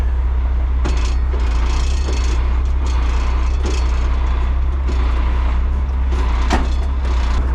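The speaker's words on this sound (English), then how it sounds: "we're gonna give her a little shake, see if we can pop that drive shaft off" A 16-ton truck with its U-joint straps removed is rocked back and forth to shake the drive shaft loose, giving a steady heavy low rumble with intermittent knocks and creaks from the drivetrain.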